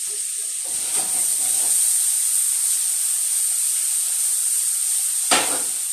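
Vegetables boiling in a pan on the stove give a steady bright steam hiss throughout, with a few brief bubbling bursts and clatters near the start and end, close and with no talk.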